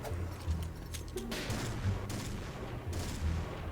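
Gunfire in a shooting video game, a rapid run of muffled shots and bursts repeating at an even pace, moderately quiet and steady across the whole stretch.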